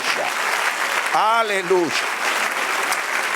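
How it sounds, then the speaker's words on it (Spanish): Church congregation applauding during a Spanish-language sermon, a steady broadband wash of clapping throughout, with a voice calling out briefly in the middle over the applause. "Den un aplauso a Dios."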